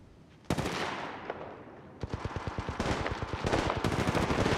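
Rapid bursts of automatic gunfire from a first-person shooter video game, loud and close, with short rattling volleys that grow denser and more continuous toward the end, no voices.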